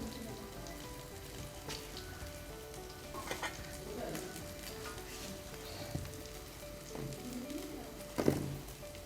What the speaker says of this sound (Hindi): देखें दोनों साइड से अच्छी तरह फ्राई हो गई हैं हमारी टिक्कियाँ डीपली।